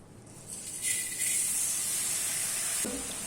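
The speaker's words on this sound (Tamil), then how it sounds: "அரிசியும் அதே மண்சட்டியில சேர்த்துட்டு நல்லாவே வறுத்து விட்டுக்கிறேன்" Soaked rice dry-roasting in a clay pot over a medium flame, giving a steady close sizzle and hiss that swells after the first second and holds, with a soft stir near the end.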